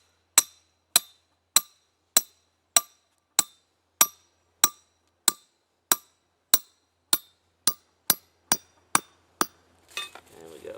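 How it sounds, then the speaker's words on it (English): Half-inch steel rebar stake driven into the ground with a hammer outdoors: about eighteen sharp, ringing metallic strikes in a steady rhythm, loud and close, then a brief rustling scrape at the end. "Take our half-inch and drive one in at a slight angle."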